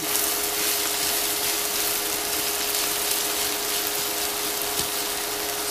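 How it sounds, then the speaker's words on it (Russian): Vegetables frying for borscht in a REDMOND skillet inside a multikitchen, a steady broadband sizzle holding at even loudness throughout with a faint constant hum beneath and no talk. "А тут вот на этой сковородочке я теперь зажарку делаю на мультикухне"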